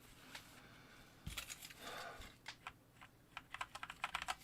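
Someone types on a mechanical keyboard with Cherry MX Red switches: faint, close, uneven bursts of key clacks with short pauses, and no voices.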